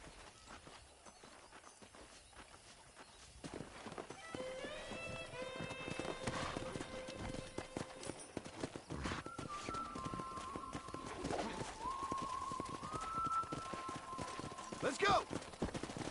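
Hoofbeats of horses running during a wrangling scene in Red Dead Redemption, mixed with in-game music tones and ambient sound, fairly faint and continuous.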